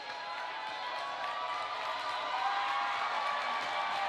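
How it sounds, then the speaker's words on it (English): Arena crowd cheering at a Danbury Hat Tricks ice hockey game, a steady roar of many voices filling the rink as the teams take the ice, sustained and even at moderate loudness throughout. "Big cheers from the crowd."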